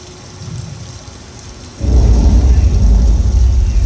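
Simulated rainstorm effect on a studio tour backlot: a faint patter gives way to a sudden loud, dense downpour with a deep thunder-like rumble underneath, sustained and close.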